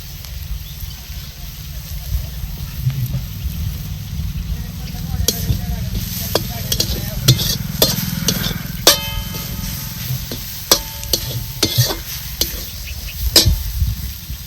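Gulvel, an Ayurvedic plant, being stir-fried as bhaji in oil, village style: a steady close sizzle with scattered sharp clinks and scrapes of a spatula on the pan, under a low background hum.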